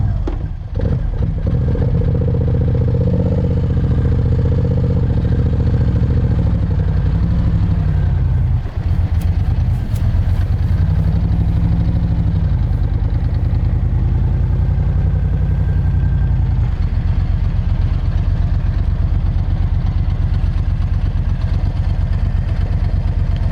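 A 2000 Moto Guzzi Jackal V11 motorcycle with 36,000 miles idles nearby, a steady low throbbing engine rumble with light mechanical clatter that holds evenly throughout.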